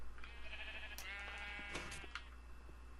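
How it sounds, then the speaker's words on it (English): Sheep bleat repeatedly in the Minecraft video game over a steady low hum, the calls clear and close together with short gaps between them. "apparently this one I can just shear the sheep"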